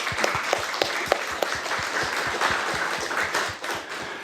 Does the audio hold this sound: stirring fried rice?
no